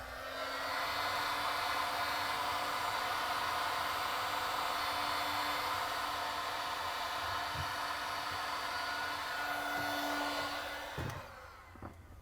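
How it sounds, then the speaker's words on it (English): A heat gun shrinks heat shrink tubing during a refrigerator defrost thermostat repair, giving a steady, even blowing hiss that holds for about ten seconds and then cuts off, followed by a few faint handling knocks. "we can grab the heat gun and shrink it down."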